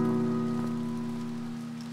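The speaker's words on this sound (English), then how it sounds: "Yes, in the rain." Rain falls steadily in the video game To The Moon, a soft continuous patter heard over a sustained low musical drone, with no voices.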